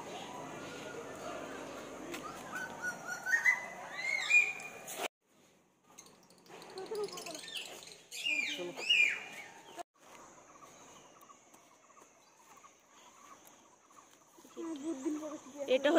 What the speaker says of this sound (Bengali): ও এইসব সব মুরগি, এখানে মুরগি, পাখি আছে।